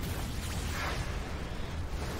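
A huge explosion sound effect from a Naruto anime battle: a dense, loud, sustained roar of rumbling low-end noise and broadband debris wash, continuous for a couple of seconds with no talk.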